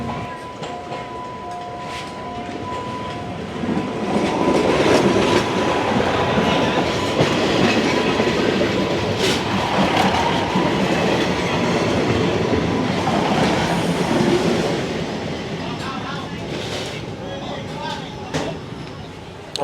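A train rolls along the tracks beside a busy Bangkok night market, its rumble and clacking wheels building then fading, while people chatter nearby over the rail noise.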